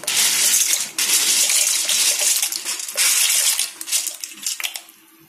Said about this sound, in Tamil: இந்த பாஸ்தாவை நான் எடுத்துருக்கிறேன். இதை இப்போ அந்த கொதிக்கிற தண்ணியில் போடணும்.